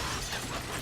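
A boss smashing through a barrier in the horror video game Resident Evil 7, a brief, dense crash of breaking and shattering debris, loud and continuous with no voice over it.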